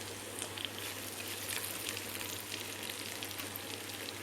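Mutton liver, Andhra style, fries in a pan with a steady, soft sizzle and faint crackle throughout, no voices present, with a low constant hum underneath.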